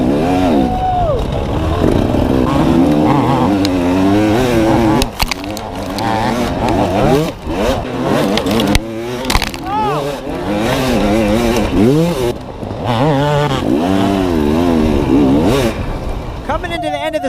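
Dirt bike engines roar through a harescramble race lap, loud and close with constant revving and throttle swells rising and falling, while a voice talks over the engine noise.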